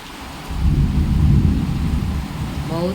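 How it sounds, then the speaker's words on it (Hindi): Heavy rain pours steadily, a dense hiss with a deep rumbling undertone that swells midway, loud and close. "बहुत ज़्यादा तेज़ी से बारिश हो रहा है"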